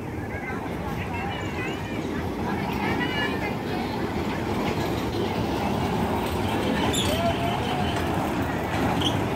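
A children's ride train runs at a zoo in Rohtak, a steady rumbling clatter of wheels and engine close by, continuous throughout with faint voices and outdoor noise mixed in.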